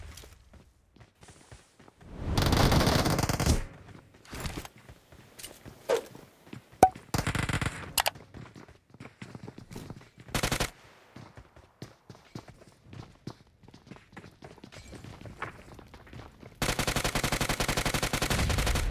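PUBG Mobile gunfire comes in scattered single shots and short sharp bursts, with several longer rattling volleys of automatic fire, one near the end running steady for about two seconds, between quiet gaps.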